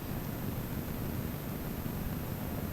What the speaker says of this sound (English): what you hear is kind of a scratching noise